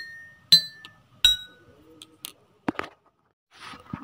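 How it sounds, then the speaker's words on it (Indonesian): Drinking glasses filled with different amounts of water are struck one after another, giving two bright ringing clinks at distinct pitches followed by several softer taps and knocks in an otherwise quiet room. "Tampak jelas perbedaan suara dari setiap gelas yang sudah diisi oleh air."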